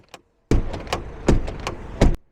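Ford Focus sedan door handle pulled and the door opened: a soft click followed by a sequence of sharp mechanical clunks and latch knocks, close and distinct, with short pauses between them.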